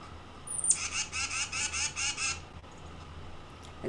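A male songbird gives a harsh scolding call, a rapid series of about eight raspy, buzzy notes in one burst that stops abruptly, fairly close and alone over quiet background.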